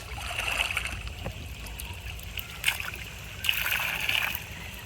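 Water from a well flows and splashes steadily, with a few louder splashes rising above a constant trickle, close by and moderately quiet.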